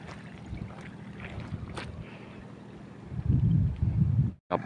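Longtail fishing boat returning from small-scale shrimp fishing toward a canal mouth, its engine a steady low drone with wind buffeting the microphone, swelling louder near the end before briefly cutting out.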